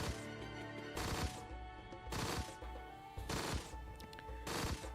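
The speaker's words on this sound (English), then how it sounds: "If I just keep firing the gun" A gun fires in repeated bursts in the video game Monsters and Monocles, four loud clusters of rapid shots evenly spaced over a steady backdrop of game music and ambience.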